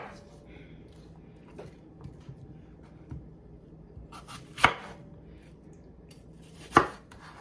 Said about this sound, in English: And we just want to cut these apples in bite-sized pieces.